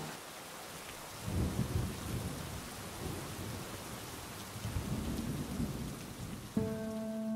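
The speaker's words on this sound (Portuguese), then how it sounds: "isso é um bom momento que vocês colocarem a chuva enquanto vocês me entrevistam" Steady rain with low rolling thunder plays through an interview, a dense hiss of falling drops broken by deep rumbles, moderately quiet and continuous.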